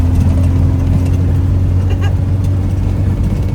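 A rare limited-edition car driving the Dalton Highway toward the Arctic Circle in Alaska, giving a steady, loud low engine and road drone close by throughout, with no voices.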